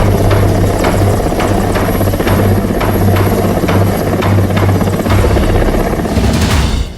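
An air force helicopter hovers close by during a river rescue in Bilaspur, Chhattisgarh, its rotor beating in a fast, even thump over a loud, constant engine drone that barely changes throughout.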